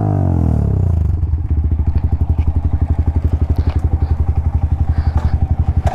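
A Yamaha R15 V3 motorcycle fitted with an Akrapovic exhaust idles and revs close by, its deep rapid exhaust pulses steady and loud throughout with no talk.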